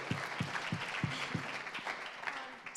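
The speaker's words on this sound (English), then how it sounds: "Big round of applause" Audience applause at an Earth Guardians gathering, a steady wash of many hands clapping at moderate volume throughout, with a few louder individual claps standing out near the front.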